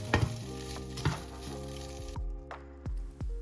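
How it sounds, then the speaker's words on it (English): Tofu fries in hot oil in a pan with garlic and ginger for fried rice, a close steady sizzle broken by several stirring scrapes and sharp utensil taps against the pan, alone without talk. "add your garlic and ginger and mix around, flipping the tofu so that it can get extra crispy"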